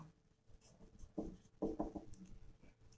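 Pen writing on paper during a coordinate geometry maths lesson, a few close scratchy strokes in short bursts with brief pauses, alone without talk.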